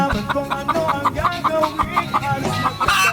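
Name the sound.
pet chicken clucking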